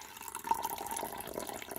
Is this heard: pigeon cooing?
no